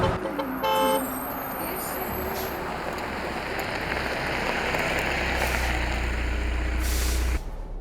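A large vehicle pulls over and halts with a loud hiss of air brakes, a steady broadband rush holding for several seconds before cutting off, with faint tones above.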